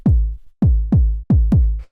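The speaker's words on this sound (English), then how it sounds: "So you can hear it's a 909 kick." An unprocessed 909 kick drum sample thumps five times in a slightly uneven pattern, each hit loud and deep with a short booming decay, with nothing else playing.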